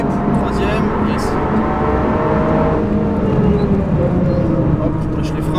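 A modified Toyota GR Yaris track car is pushed hard around the Nürburgring, its engine loud from inside the cabin as it climbs steadily in pitch, drops at a gear change midway, then winds up again.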